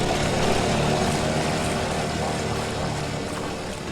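Outboard engine of a dinghy running on calm protected water in the Exumas, a loud continuous drone with steady motor hum and water noise throughout, no talk.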